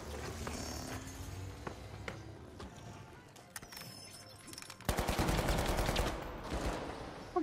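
Rapid automatic gunfire from the video game The Finals, a loud sustained burst in the second half after scattered earlier shots and game sounds.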